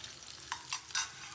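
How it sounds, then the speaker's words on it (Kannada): Onions go into hot oil for a tempering in a chicken gravy, giving a quiet, steady sizzle with a few louder stirring scrapes and splashes along the way. "ಇವಾಗ ನಾವು ಒಗ್ಗರಣೆಗೆ ಈರುಳ್ಳಿ ಹಾಕೊಳ್ತಾ ಇದೀವಿ."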